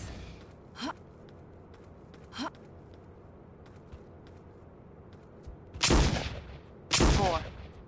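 Gunshots in the video game Jurassic Park: Trespasser, two sharp distant cracks followed by two louder, fuller bursts close together near the end, with quiet background between.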